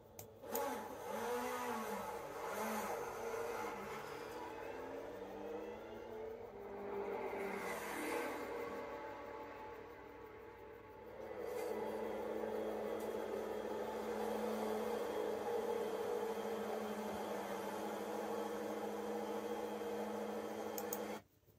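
Porsche's new LMDH Le Mans endurance race car on track, its engine rising and falling through gear changes, passing with sweeping pitch shifts before settling into a sustained loud howl.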